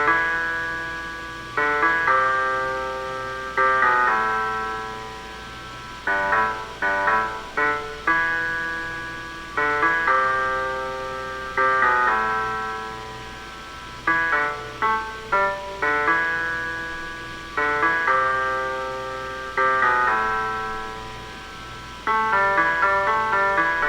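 Guitar performance, with bright sustained chords struck in short rhythmic bursts and rings, some staccato stabs, played alone at moderate loudness with no talking.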